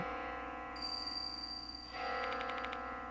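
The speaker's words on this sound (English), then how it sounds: "Where's this bell sound coming from?" A bell rings in Death Mark 2 as a steady, sustained ringing tone over a dark, humming ambience, growing slightly brighter and busier partway through.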